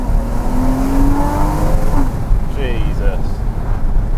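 A Porsche Cayman S 981 engine revs on a country road, a steady loud drone with rising high-pitched sweeps, heard from inside the car over constant road and wind rumble.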